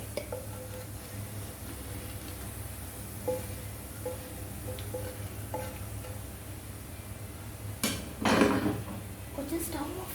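An Arabian omelette is slid from the pan onto a plate, with a clatter of cookware and a short burst of scraping near the end over a low kitchen hum and faint sizzle.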